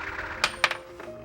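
A coin tossed and landing, giving a few sharp metallic clicks and a small bounce over quiet room tone.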